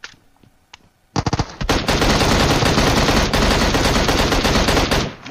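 M16 rifle gunfire in a shooting video game, a few isolated shots followed by a long, loud, continuous automatic burst lasting several seconds before stopping abruptly.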